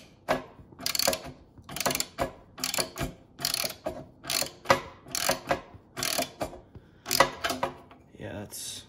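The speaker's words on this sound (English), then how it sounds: "The head of the ratchet here to tighten, because if I use the end of the ratchet," A ratchet tightens a pressure switch fitting on a Central Pneumatic air compressor, giving a close, steady series of quick clicking bursts, roughly fifteen strokes in a repeating rhythm.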